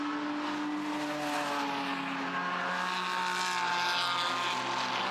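Porsche Cayman Trophy race cars at the Barcelona circuit give a steady, continuous engine roar throughout, moderately distant and blended into one droning wash of revving motors.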